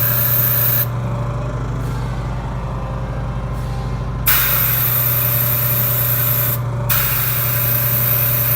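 An airbrush hisses steadily while spraying paint on a model, the spray cutting out and resuming several times over a constant compressor hum.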